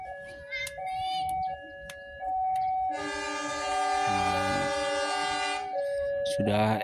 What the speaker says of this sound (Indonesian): Ini dia waktunya kereta api Serayu dari Tasikmalaya berangkat ya.